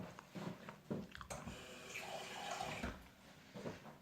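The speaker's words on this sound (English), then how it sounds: "I'm going to add in 3/4 cup of water." Water poured into a pan of cooking apples for apple sauce, a splashing, trickling pour with a few clinks, fairly close and without talk.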